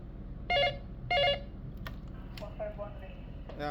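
Two distinct tone beeps of a phone keypad dialing a test call on a newly connected automatic telephone line, followed by fainter clicks and short tones over a quiet line hum.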